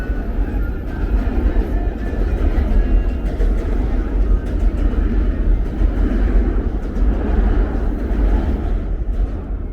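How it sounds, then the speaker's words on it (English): A New York City subway train pulls out of a station beneath the street along 8th Avenue, giving a loud, continuous low rumble and roar heard from street level, with faint voices and city noise mixed in. "You can hear the train leaving the station right underneath us."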